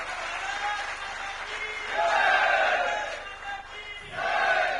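A crowd claps and cheers in loud swells that rise and fall in waves at a public event. Voices shout over the clapping.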